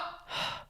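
A person imitates another's breathing noise with a short, breathy exhale through the mouth, close and soft, lasting under a second.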